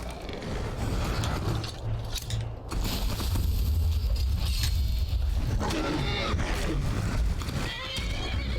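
Horse in the video game Skyrim neighing loudly and whinnying near, with hooves clip-clopping and mechanical clanks and rattles mixed in over a dense, busy game soundscape.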